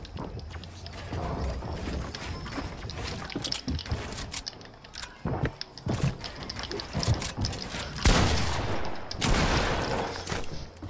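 Gunfire in a video game, bursts of rapid shots and scattered single cracks over a busy, noisy game mix, loud and close, with the heaviest volley near the end.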